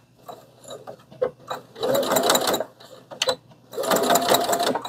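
A sewing machine stitches a large tote bag, running in several loud whirring, rattling bursts separated by short pauses as the seams are sewn.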